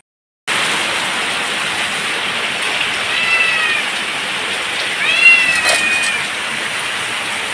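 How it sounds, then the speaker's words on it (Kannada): Steady, fairly loud rain falls continuously outdoors as a dense hiss, and a cat meows briefly a few times partway through. "ಮಳೆ ಸಹ ಬರ್ತಾ ಉಂಟು."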